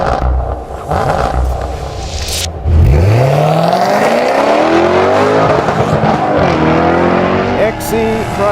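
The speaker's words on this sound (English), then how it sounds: "We've been working on this car for the last 18 months, honing it into the track-ready 600 PS all-wheel drive weapon." Jaguar XE SV Project 8, a 600 PS all-wheel-drive track car, accelerates hard on a circuit, its engine rising steadily in pitch through the gears with a brief tyre squeal, loud and close throughout.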